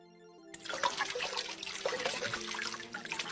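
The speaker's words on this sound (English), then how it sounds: "Basically pluck one of these out, rinse it." Tap water starts running after a half-second of quiet, splashing and trickling steadily as small LEGO pieces are rinsed under the stream.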